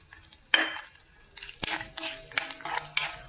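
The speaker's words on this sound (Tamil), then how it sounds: "நெக்ஸ்ட் வந்து கொத்தமல்லி வரை தனியா போட்டுக்கிறேன்." Coriander seeds are tipped into a pan for dry roasting, making a crisp scattering rattle followed by several light metallic clinks and scrapes, close but fairly quiet.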